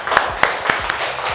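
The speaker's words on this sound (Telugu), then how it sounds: "wow, claps claps" Several bursts of clapping come from children at a school, sharp and fairly close, with a bright ringing tone under them.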